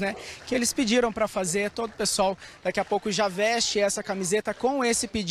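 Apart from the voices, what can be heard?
No everyday noises stand out.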